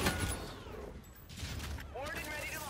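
Gunfire in the sci-fi shooter Infinite Warfare comes as a burst of shots and mechanical clatter, with whooshing sweeps and metallic impacts. A voice speaks over part of it.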